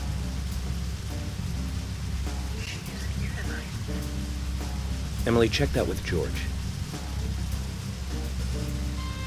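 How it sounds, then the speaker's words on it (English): A steady wash of rain falls in the game Deadly Premonition, soft and constant beneath people talking, with a low rumble and a few brief swells in the middle. "the rain's here"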